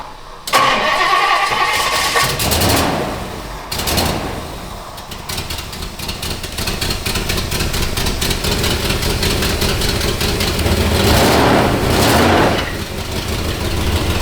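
A Ford Thunderbird that sat unused for 16 years cranks and fires up, then settles into a loud, steady idle with a few swells in engine speed, and no voices are heard.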